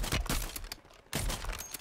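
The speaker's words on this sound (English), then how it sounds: "I'm dodging this guy's bullets." Video game gunfire crackles in two quick rapid bursts separated by a brief pause, sharp and fairly faint in a short stretch.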